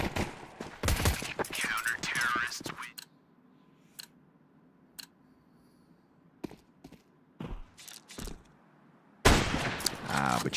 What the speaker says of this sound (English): PR's M4 through the doorway.